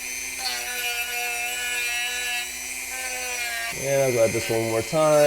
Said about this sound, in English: The Dremel definitely works though.